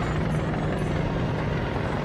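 Steady, loud helicopter rotor drone holds evenly throughout with no other sounds on top.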